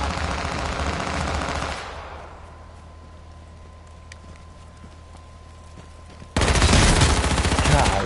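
Gunfire in the video game H1Z1, loud dense bursts of shots opening the clip, then a quieter stretch of faint scattered noise before heavy rapid firing returns abruptly near the end.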